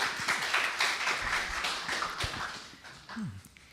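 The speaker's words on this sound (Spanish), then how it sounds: "un aplauso para Nathan y Leo" A conference audience gives a short round of applause for the speakers, the clapping fairly close at first and then tapering off quickly into scattered claps.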